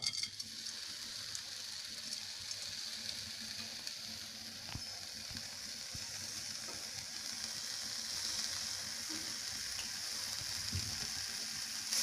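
Neem flowers dry-roasting in a pan with no oil, giving a soft, steady, faint crackling sizzle that stays even throughout, with occasional light stirring ticks and no voices.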